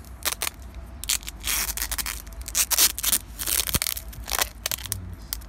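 A plastic bag is wrapped tightly around a tree branch for air layering, giving loud, close crinkling and rustling in irregular bursts with brief pauses between pulls.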